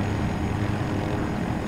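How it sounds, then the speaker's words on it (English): Steady loud helicopter rotor and engine roar in the video game Battlefield 2042, a continuous dense drone with no talking. "I'm in a helicopter again."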